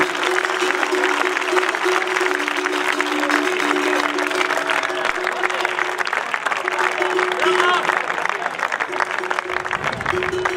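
An outdoor crowd at a skyrace award ceremony in Villacidro claps continuously for a prize winner, a lively sustained round of applause with a faint steady tone and some background voices underneath.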